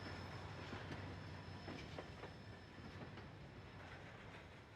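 A freight train crew pulls forward through a rail yard after uncoupling to clear the turnout, sending a steady rumble of rolling railcars with faint clickety-clack wheel beats and a thin high squeal running throughout, fairly close.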